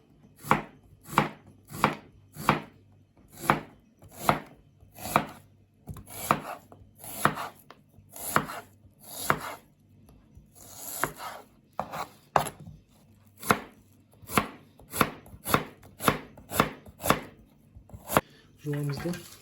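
An onion is chopped with a knife, about two dozen evenly spaced, crisp knife strikes against a board, close and clear, falling in a steady rhythm with brief pauses.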